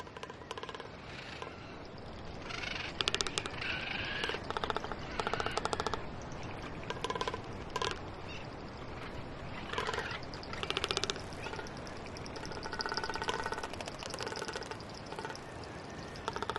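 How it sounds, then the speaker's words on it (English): A male bird with a red throat pouch claps its bill in rapid rattling bursts, with low drumming from the pouch between them and faint chirps of other birds nearby. "So you hear the clapping of his bill, and you also hear the drumming that's coming out of that pouch."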